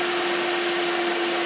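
A Dell PowerEdge SC1430 dual-CPU server running after power-on, its cooling fans producing a loud, steady whirring drone with a constant hum, close and unbroken.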